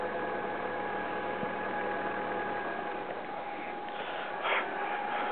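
A 2001 Alfa Romeo 147 T Spark engine idles at a low, even rumble with a faint hum, no talking, and a brief slight swell near the end.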